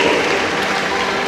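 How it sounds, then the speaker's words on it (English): Audience applause at a medical college graduation ceremony, a broad, dense wash of clapping sustained at even loudness for a short burst. "I request the audience to give them a loud round of applause."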